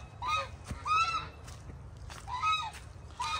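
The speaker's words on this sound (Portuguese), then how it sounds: "Olha os gansos saindo lá pra cima, dona Helena. Barulhento." Geese on a rural smallholding honk in three loud, raucous bursts as they head uphill, over a steady low rumble of background noise.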